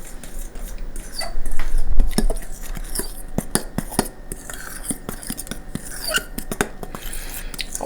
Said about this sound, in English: I'm going to stir this powder up.